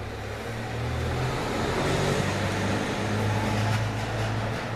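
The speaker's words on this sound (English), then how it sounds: "Here comes a car." A car approaches and drives past on an outdoor road, a steady broadband engine and tire rumble that swells gently and holds, moderately loud, with no voices.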